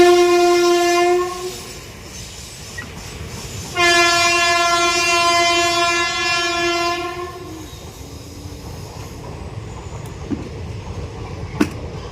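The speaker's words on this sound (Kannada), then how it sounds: "ಟ್ರೈನ್ ಬರೋದಂತ" A train passing on a railway track sounds two long, loud horn blasts over a continuous rumbling roll of wheels, fading into a steadier rumble with a few sharp clanks near the end.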